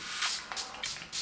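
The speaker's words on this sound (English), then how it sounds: "And then the very last step, setting spray. So this one's by BH Cosmetics" BH Cosmetics setting spray is misted onto a face in four quick, soft hissing bursts, close and quiet, with no voices.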